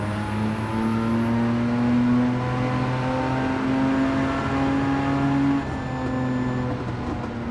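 A Mazda RX-7 rotary engine in a racing game at Tsukuba Circuit holds a loud, steady high-revving whine with slowly rising pitch, then eases slightly near the end.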